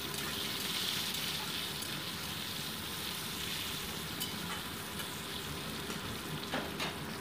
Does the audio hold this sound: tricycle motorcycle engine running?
no